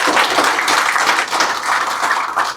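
Audience applause at a cooperative society event, a dense, steady burst of many hands clapping that fills the whole moment, loud and close, fading slightly at the end.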